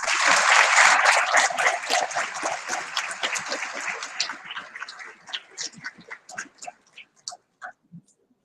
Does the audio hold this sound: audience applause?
yes